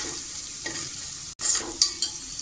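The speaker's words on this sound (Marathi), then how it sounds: "तोही व्यवस्थित परतून घेऊया." Mixed spice masala being sautéed in a pan for a bottle gourd and chana dal dish, a close hissing fry with a brief cut and a couple of quick spoon scrapes.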